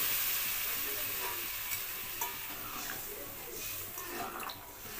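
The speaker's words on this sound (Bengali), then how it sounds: "পুরো সবজিগুলোকে মশলার সাথে একটু নাড়িয়ে চাড়িয়ে দেওয়া হলো।" A spatula stirs vegetables through spiced Bengali khoyra fish curry after water is added, producing a steady low sizzle and bubbling with occasional soft scrapes, fairly faint and without talk.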